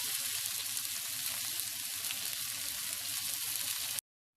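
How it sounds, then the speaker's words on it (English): Ribeye steak pan frying over low heat, a steady close crackling sizzle that holds evenly for about four seconds and then cuts off abruptly. "Pan fry the steak for about 3 minutes on each side at the lowest heat"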